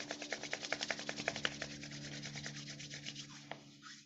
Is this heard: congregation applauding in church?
no